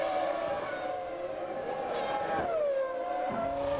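Eddie Irvine's 1998 Ferrari Formula 1 car exits the pits after a quick stop, its high engine whine held steady with shifting pitch, close and continuous, with no talk.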